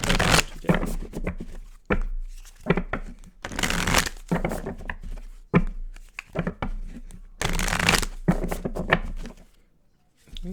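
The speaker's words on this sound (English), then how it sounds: "I'm going to start with the Purposeful deck." Oracle cards shuffled by hand from a money and career deck, a series of crisp riffling and slapping bursts with short pauses between them, close and fairly loud, with no one talking.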